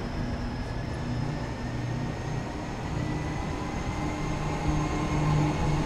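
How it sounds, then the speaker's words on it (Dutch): An ICM train in Train Simulator 2022 hums and rumbles steadily, a continuous droning engine and rolling noise with faint tonal whines, loud and even throughout with no talking. "Ik ben benieuwd hoeveel treingeluiden we door elkaar te horen krijgen."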